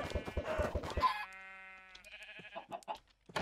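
Modded Minecraft farm animals, chickens with sheep bleats mixed in, give a run of strained, tonal cackles and bleats, near and fairly loud, the busy opening easing into a long drawn call and then short scattered squawks.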